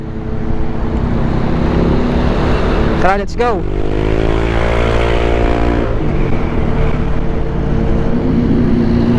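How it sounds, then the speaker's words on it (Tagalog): Heavy, roaring wind buffeting a GoPro Hero 10 constantly while riding, close and loud, with an engine hum beneath and a brief spoken phrase partway through. "malakas yung hangin dito"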